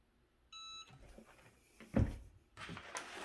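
A short electronic beep from a heat press with stacked harmonic tones, followed by a thump and some handling noise as a T-shirt is turned around.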